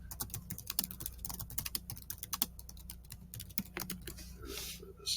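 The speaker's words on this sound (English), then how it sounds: "So that's what I'm typing there." Rapid clicking on a computer keyboard while entering web page text, with irregular bursts of close keystrokes over a low background hum.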